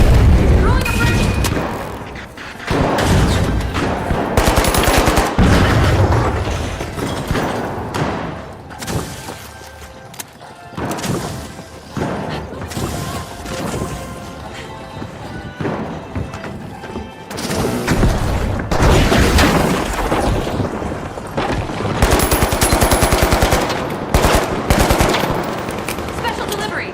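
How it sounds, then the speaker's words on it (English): Video game firefight with a sonar grenade thrown amid dense bursts of machine-gun fire, booming explosions and crashes, loud and continuous with brief lulls. "Sonar grenade out! Special delivery! Throwing a grenade!"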